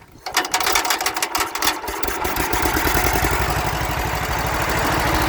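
A vintage welder's gas engine with a dirty sediment bowl cranks, catches and settles into a loud, steady running chug with the choke on, its rapid regular firing continuing to the end.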